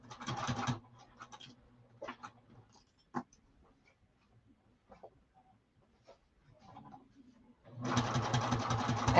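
A sewing machine stitches the exterior of an Ireti saddlebag along a quarter-inch seam. Loud, steady whirring runs at the start and again at the end, with quiet handling clicks and rustles in between.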